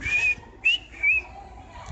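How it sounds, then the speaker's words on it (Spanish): Three short, eerie whistles, high and clear like an owl's call, sound close against a quiet background, each one sliding slightly in pitch. "un extraño silbido, como de una lechuza, le despertó"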